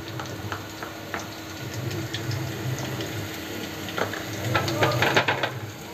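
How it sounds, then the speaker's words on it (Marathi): Asafoetida (hing) sizzles in hot oil in a pan with onion, giving a steady crackle broken by light stirring and clinks. "तो चांगला तेलात भाजून घेऊया हिंग"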